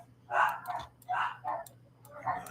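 Dogs barking in a series of three short bursts, moderately close with a steady low hum beneath and no talking.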